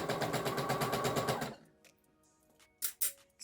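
A sewing machine stitches fabric for a tote bag in a fast, even rhythmic whirr for about a second and a half, then stops, leaving quiet handling noises and a few sharp clicks.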